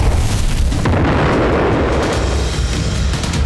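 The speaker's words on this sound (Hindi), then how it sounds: "इन तस्वीरों में इमारतों से उठते हुए धुएं के गुबार के बाद कई बड़े विस्फोट होते दिखाई दे रहे हैं।" Large explosions from an Israeli strike on buildings in Beirut boom loudly, a heavy rumbling blast swelling and rolling on for several seconds.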